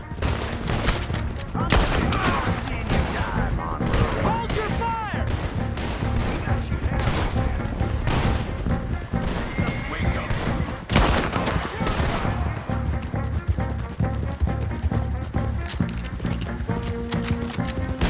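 Gunfire in Red Dead Redemption 2, with repeated sharp shots and bursts at uneven intervals over a busy chase, hooves clopping and voices shouting underneath.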